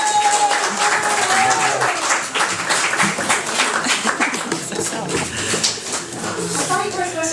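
Applause breaks out in a meeting room after a unanimous vote, a steady dense clatter of clapping from the room with voices talking over it throughout.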